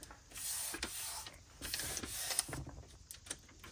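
A sewing machine rattles quickly as it stitches strips of paper ephemera, a faint, close mechanical chatter that runs continuously for a few seconds.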